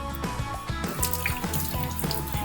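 Running water splashing as a burn wound is washed with soap and water, a close, continuous wet trickle and spatter with small clinks, no voices.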